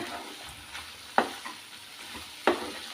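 Cauliflower stalks and potatoes sizzle in a pan, a soft steady frying hiss broken by two sharp clacks of stirring, close and without talk.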